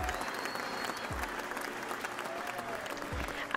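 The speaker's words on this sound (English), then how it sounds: "I'm gonna add some clapping in there when I edit that" Clapping and cheering from a crowd, added as a sound effect, runs steadily through a Minecraft game scene with no talking over it.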